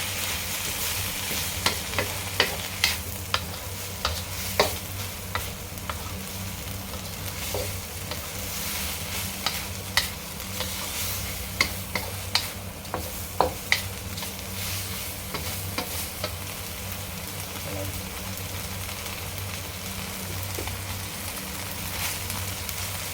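Fish stir-fried with dried holy basil makes a dense, continuous sizzle with repeated sharp clacks of a spatula against the pan at an irregular, busy rhythm, close and fairly loud, with no voices.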